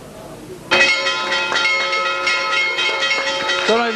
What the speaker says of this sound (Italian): si stanno suonando le campane